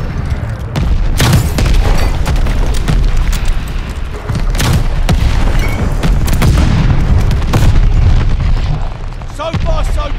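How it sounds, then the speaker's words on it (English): Deep booming explosions from a friendly bombing run in Call of Duty: Vanguard on the Hotel Royal Domination map roll on one after another, loud and close, under steady battle noise, with radio voice lines mixed in. "Friendly bombing run on the way."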